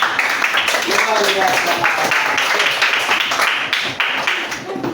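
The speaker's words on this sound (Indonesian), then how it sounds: "tepuk tangan buat semua" Classroom applause breaks out from a group of students during a lesson, a dense clapping wash lasting several seconds alongside overlapping voices.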